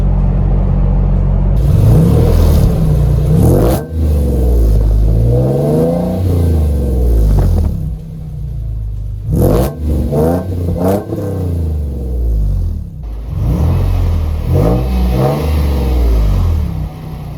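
A 4th-generation Toyota 4Runner drives on the highway with engine revving up and down over steady road rumble, loud and close, with brief drops in between.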